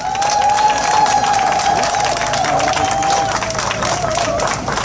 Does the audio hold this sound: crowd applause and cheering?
yes